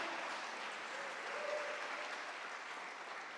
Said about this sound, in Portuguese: aplaude a Ele nessa noite